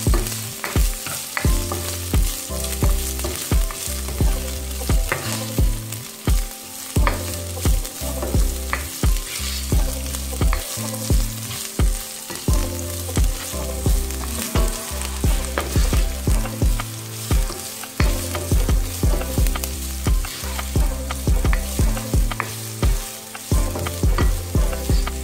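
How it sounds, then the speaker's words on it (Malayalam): Sliced onions sauté for chana pulav in a pan with a steady close sizzle. Rhythmic scraping and stirring strokes of a spoon against the pan repeat throughout, with no talking. "സവാള നന്നായി വഴറ്റി കൊടുക്കാം."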